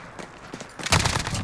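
MG5 (HK121) machine gun from the Call of Duty Modern Warfare video game opens up with a loud, dense burst of rapid shots after a brief quieter lead-in of handling noise.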